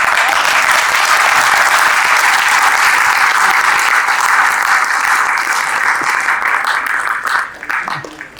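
A theatre audience gives loud, sustained applause after a stage performance of Tartuffe, a dense wash of many clapping hands that holds steady and then thins out near the end.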